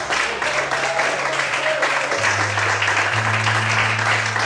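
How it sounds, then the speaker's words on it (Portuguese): A church congregation applauds at an evening service, a steady dense wash of clapping with a low sustained hum or organ tone running beneath it. "Será que você pode aplaudir?"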